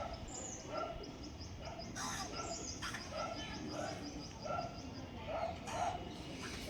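Pigeons, young birds in a loft, giving soft repeated coos and light chirps at a distance, faint and steady throughout.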